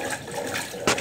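Water gushing from a leaking 1993 Brastemp Mondial BLL22 washing machine with a broken tub, a steady wash of liquid noise that surges louder near the end, with no talk.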